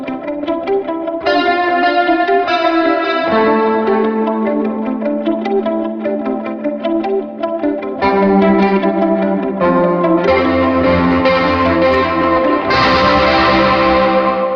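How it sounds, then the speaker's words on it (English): Electric guitar played through a pair of Kernom effects pedals in a Pasadena studio, heavily processed with distortion, chorus and echo: a continuous, loud run of sustained chords and notes with no talking. "demoing some pedals from Kernom"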